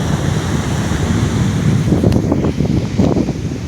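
Sea waves roll in at Candolim Beach, Goa, a continuous loud surf roar with gusting wind buffeting the microphone and several surges of breaking water toward the end.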